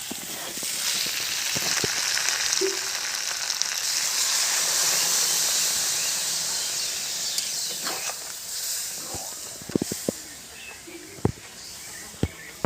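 Goat tripe frying in a pan gives a steady broadband sizzle, joined by a few sharp pops and spits toward the end as water is poured in, with no voices.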